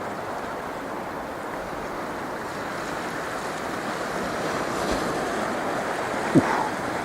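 Waves beat against rocks on a Spanish coast near the village of Llafranc, a steady broad surf wash with wind noise and one brief sharper splash near the end, no voices.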